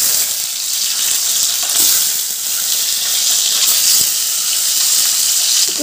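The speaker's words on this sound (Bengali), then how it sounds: "এবার যে ডিমগুলো সেদ্ধ করে রেখেছিলাম সেই ডিমগুলো দিয়ে দিলাম।" Boiled eggs frying in salted oil, giving a steady, loud, continuous sizzle with crackling that holds throughout, and no voices.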